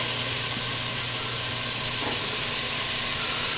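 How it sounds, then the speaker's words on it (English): Vegetables for chili sauteing in a pan over medium-high heat on a strong flame, giving a steady, even sizzling hiss throughout. "the vegetables, which will now saute until very soft for about 8 to 10 minutes on medium-high heat"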